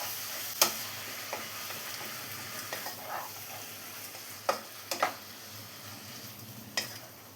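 Chicken being stirred with hot spice powders in a pan for chicken thoran, a steady low fry with a few sharp scrapes and clicks of the spoon scattered throughout, close and alone with no talk.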